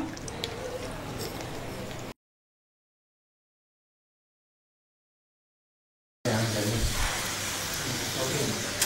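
Raisins sizzle and hiss as they fry in hot ghee, a steady bubbling spray that stops abruptly into silence, then returns louder and fuller.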